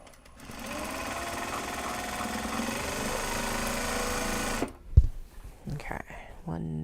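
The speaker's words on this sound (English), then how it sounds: "And then we can at least sew these exteriors together." Sewing machine stitching bag exterior panels together, a close, steady motor drone for over four seconds that stops abruptly, followed by a thump and brief handling sounds.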